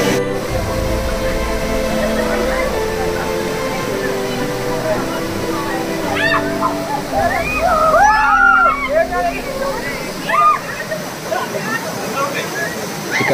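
Vibhooti waterfall in Karnataka drops from a great height, giving a steady, loud rush of falling water that fills the whole stretch. Splashing and sloshing come close by, with voices over it.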